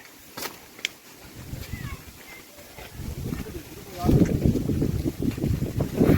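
Wind gusts and rumbles against the microphone outdoors by a village pond under a cloudy sky, growing stronger toward the end, with people talking intermittently over it.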